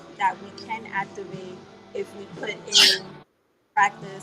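One short, sharp sneeze bursts out midway through steady talk, louder than the surrounding voice, followed by a brief silence before the speaking resumes.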